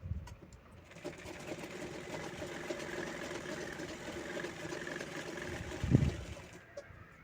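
An electric sewing machine stitches a patch of old saree fabric with red cotton lining, a steady close motor whir with fast rhythmic needle clatter that swells slightly before stopping.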